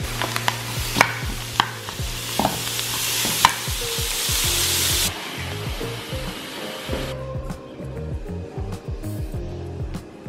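A prepared meal heats in a pan with a loud hissing sizzle for the first half, then a quieter sizzle, while a utensil clinks and scrapes against the pan in an irregular rhythm, with no voices.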